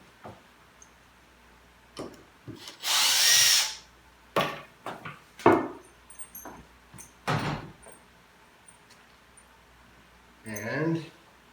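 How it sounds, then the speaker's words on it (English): A cordless power drill drives a support screw while a bait trap is reassembled: several short whirring bursts alongside clicks and knocks of handling, with someone talking in between. "And I gotta grab my drill for the support screw."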